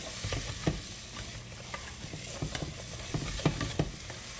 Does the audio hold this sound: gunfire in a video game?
no